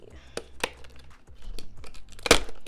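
Packing tape being pulled and torn off a product package by hand, giving sharp ripping bursts and crinkly rustles at irregular intervals, fairly close, with a loud tear near the end.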